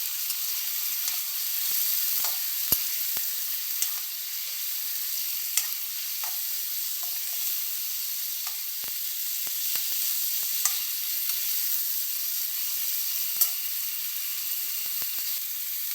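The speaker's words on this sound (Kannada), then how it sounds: "ಎಣ್ಣೆ ಹಾಕಿದ್ದೀನಿ, ಆಮೇಲೆ ಚಕ್ಕೆ, ಏಲಕ್ಕಿ, ಲವಂಗ, ಜೀರಿಗೆ" Cinnamon, cardamom, cloves and cumin sizzling in hot oil, a steady fine hiss with scattered small pops and crackles, close and continuous without talk.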